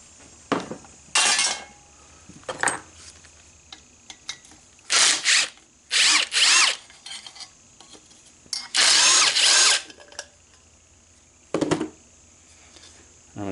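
Power tool bursts while removing the muffler from a Ryobi pressure washer, several short loud whirring runs separated by pauses, with clinks of metal parts and quiet handling between them.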